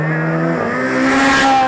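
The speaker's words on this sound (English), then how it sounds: "Jonathan Folan in his Group N Subaru meanwhile is being hounded here by the Honda of Paul Curley" Group N Subaru rally car chased closely by a Honda rally car on a stage of an Irish rally, engines loud and near, revving hard as the cars rush past in a brief burst.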